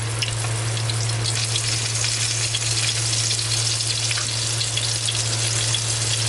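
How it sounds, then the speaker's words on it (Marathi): Masala fish frying in a pan of hot oil, a loud, close, continuous sizzle and crackle with a steady low hum underneath, no voices. "त्यानंतर आपण एक साईडनं असं छान अशी मच्छी तळून घेणार आहे"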